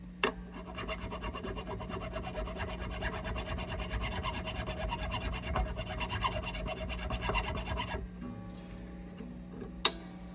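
Steady rasping strokes of nut files cutting the slots of a guitar nut during a headstock reglue repair, continuous close-up filing for about eight seconds, then quiet with a single sharp tap near the end.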